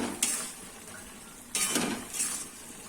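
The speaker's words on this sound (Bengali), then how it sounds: "এই যে 1 চামচ দিয়ে দিলাম, এটা একটু ফুটে যাক, তারপরে এটাকে লেড়ে চেড়ে নামিয়ে দেবো" Chilli-powder potato curry bubbling in a pan while a spoon scrapes and clatters against the metal in two or three short bursts, close and fairly quiet, with no voices.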